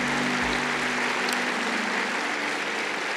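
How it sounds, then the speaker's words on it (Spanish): A church congregation applauds together as a broad, continuous wash of noise, loud and steady for a few seconds with a faint hum beneath. "Un aplauso a Jesús."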